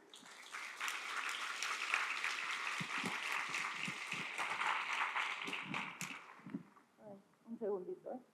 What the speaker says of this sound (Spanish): entonces un aplauso a ellos